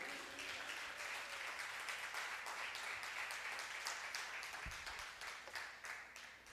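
Church congregation applauding after a pastor's sermon prompt, a steady wash of many hands clapping from a distance, fairly faint, continuing evenly throughout.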